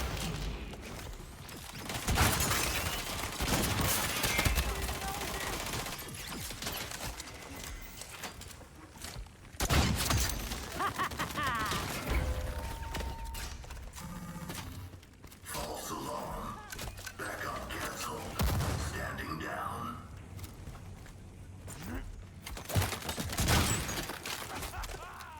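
Gunfire from the cel-shaded heist shooter Hyenas, rapid bursts of shots repeating across the stretch amid game effects, with a voice talking over much of it.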